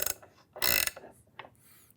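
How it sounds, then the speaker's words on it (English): A Bosch 72-tooth ratchet wrench gives a few quick, close clicking bursts, one longer rasping burst in the middle followed by shorter faint ticks. "you have here the wrench with 72 teeth"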